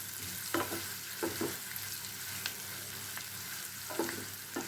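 Ginger sautés in oil for tamarind pickle, a quiet continuous sizzle broken by a few sharp scraping strokes of a spoon stirring the pan.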